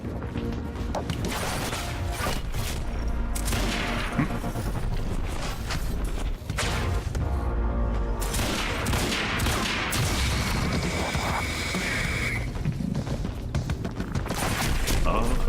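Repeated bursts of gunfire and crashing impacts from the shooter game Quantum Break fill the whole stretch, dense and loud with talk mixed in.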